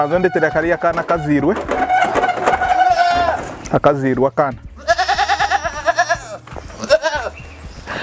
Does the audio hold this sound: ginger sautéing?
no